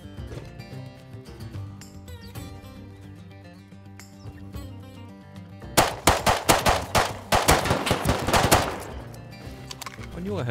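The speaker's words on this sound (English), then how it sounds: "I knew I heard shots out here somewhere." Bursts of rapid gunshots in the survival game Rust break out loudly in the middle of the clip, a sharp cluster of shots following calm music-like tones and then trailing off.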